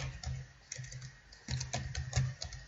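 Typing on a computer keyboard while entering text in a spreadsheet column: quiet, close clicks of keys in irregular quick bursts, with no talking.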